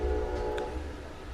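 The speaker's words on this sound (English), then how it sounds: "And there's a train coming by." A train passing nearby, a steady low rumble of rolling rail cars with a brief horn or whistle tone partway through, heard at moderate distance with no talk.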